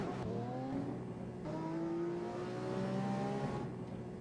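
A car engine in Garry's Mod revs and accelerates through several gear changes, its pitch climbing and dropping in repeated sweeps, close and steady with no talk over it.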